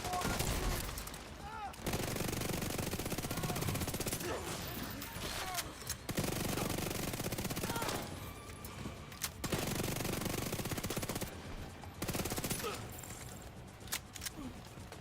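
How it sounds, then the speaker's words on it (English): Automatic gunfire from SMGs and shotguns in The Division 2 on a heroic PvE mission comes in long, loud, sustained bursts with a few short gaps, while voices talk over it. "Incoming hostiles detected. Opening fire!"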